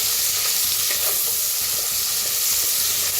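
Sliced onions fry in hot oil with whole spices, making a loud, dense, steady sizzle and hiss with faint stirring underneath, close up and unbroken.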